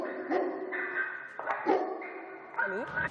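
A dog gives a flat, monotone threatening bark, several short tonal bursts with a whining edge in quick succession, fairly close and moderately loud.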